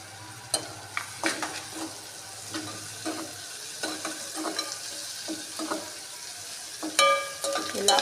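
Chopped onions frying in a pan for a meal maker curry, giving a soft continuous sizzle broken by repeated scraping stirs of a spoon against the pan, fairly close and moderately quiet.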